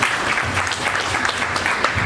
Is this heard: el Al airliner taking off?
no